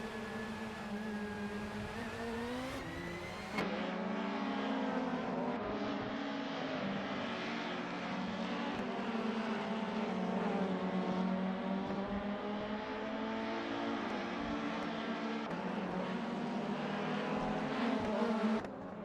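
BTCC touring cars racing at Snetterton, several engines droning and whining through gear changes as cars pass one after another, a continuous layered roar with rising and falling pitch, no voices.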